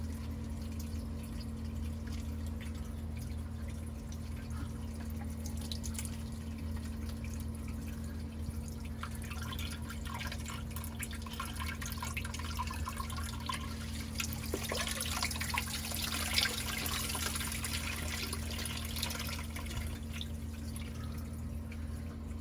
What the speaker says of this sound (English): Start letting some water through just to see how it does.